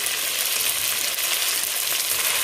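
Chicken kosha frying in a pan with spices such as coriander powder and garam masala, a steady, loud, dense sizzle that continues without a break and with no voices.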